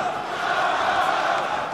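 An arena crowd at an M-1 Challenge MMA fight roars steadily in support of fighter Sergey Romanov, a dense, sustained wall of cheering and shouting with no breaks.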